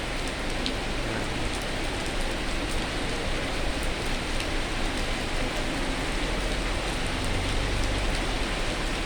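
Steady rain pours down at a fuel station in Tao Ngoi during a storm, a dense, even hiss of drops on surfaces that holds constant throughout with no voices.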